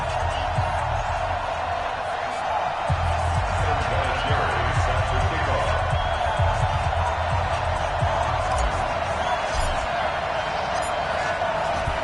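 An NFL stadium crowd at a New York Giants versus Dallas Cowboys game, a broad, steady roar of cheering that fills the space, with occasional louder swells and thumps in the low end.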